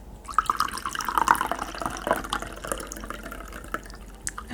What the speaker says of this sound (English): I have some tea still left in here, so I'll pour some.